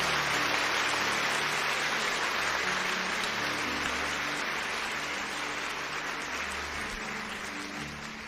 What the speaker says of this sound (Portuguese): aplaude mais forte o seu anjo